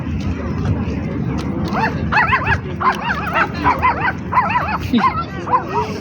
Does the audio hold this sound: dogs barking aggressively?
yes